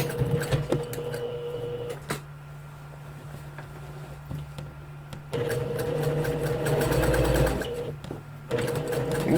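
A sewing machine topstitches a garment in bursts of rapid, buzzing stitching broken by short pauses and soft handling clicks. The machine sounds close and moderately loud.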